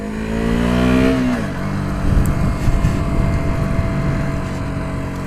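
A KTM Duke 125 single-cylinder motorcycle engine revs up under load on a city test ride, then drops in pitch as it shifts, settling into a steady rumble with road and wind noise close by.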